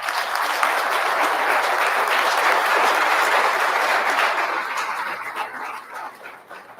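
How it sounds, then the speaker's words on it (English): An audience at a school board meeting claps in a loud, sustained burst that fades over the last seconds. "Please, everyone, a round of applause."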